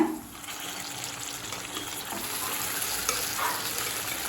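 Marinated chicken sizzles and hisses steadily as it is added to a hot frying pan for Tamil-style chicken varuval, a continuous close frying noise with no talking.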